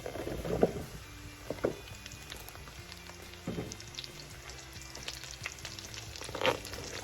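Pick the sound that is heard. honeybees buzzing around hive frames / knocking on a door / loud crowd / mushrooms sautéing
mushrooms sautéing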